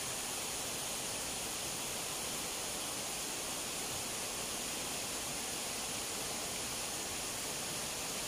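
Abuab Waterfalls in San Mateo, Rizal, Philippines, with water crashing steadily onto hard boulders in a continuous, even rush of broadband roar, with no voices heard.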